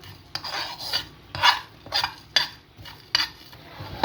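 Dry coriander, black pepper and cumin are roasted in a pan, with a metal spoon scraping and stirring in repeated rasping strokes, close and clear with no voices.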